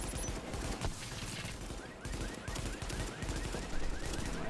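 Rapid automatic turret gunfire from The Division, a steady dense rattle of shots sustained throughout with game effects mixed in, loud and continuous without speech.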